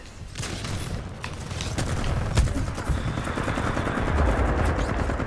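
Rapid automatic gunfire in the video game Titanfall 2 rattles on continuously and loudly, with dense bursts of shots close in the mix.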